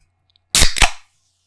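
An object is used to imitate the pop of a Coke bottle being opened, giving one sharp, loud double burst lasting about half a second, surrounded by near silence.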